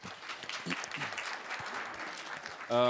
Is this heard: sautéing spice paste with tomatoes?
no